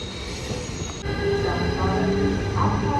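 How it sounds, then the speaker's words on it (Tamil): A train bound for Zurich pulls into Pfäffikon station, its loud steady rumble swelling midway as wheels squeal and hum close by. "சுரிக்குக்கு போகிற ரெயின் இப்போ தான் வந்தது"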